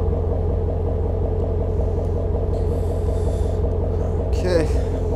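Ford Shelby GT350 engine rumbling steadily at low speed while the car backs up onto race ramps, a loud continuous low drone with a brief hiss near the end.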